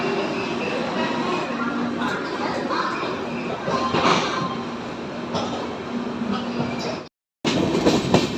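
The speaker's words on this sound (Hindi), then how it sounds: "यहाँ पे स्लोली एक्सेलरेट करता हुआ अपना ट्रेन" Sampark Kranti Express train slowly accelerating on rails, a steady close rumble of wheels and carriage running continuously, with a short break near the end before the rolling noise resumes.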